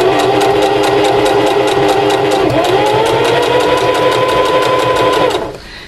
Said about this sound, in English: we are going to do a little top stitching all the way around the whole entire